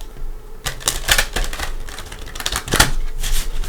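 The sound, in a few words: shuffling a deck of tarot cards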